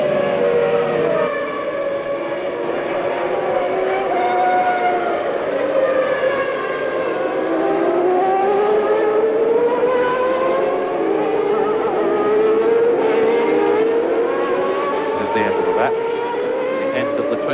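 Formula 1 cars at the 1991 Hungarian Grand Prix, with Ayrton Senna's McLaren Honda leading on lap 25, wail continuously; engine notes rise and fall in overlapping pitch sweeps as the cars pass and change gear.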